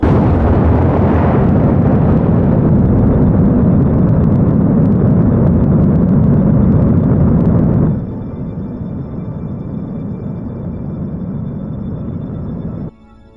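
A rocket engine in Kerbal Space Program fires a short maneuver burn as a steady, loud roaring rumble. It drops sharply to a quieter hiss about two-thirds through, then cuts off abruptly.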